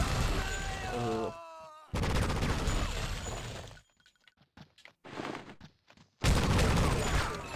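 Shotgun and AK gunfire in the video game True Crime: Streets of LA, loud bursts of shots and shattering impacts that come in bunches, drop to near quiet, then resume.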